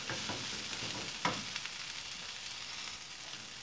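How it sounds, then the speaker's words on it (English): Ginger and garlic frying with onion in a pan make a soft, continuous sizzle, with a couple of brief utensil clinks partway through; quiet and close, without speech. "Now I'm adding ginger and garlic and let it fry along with onion for a couple of minutes."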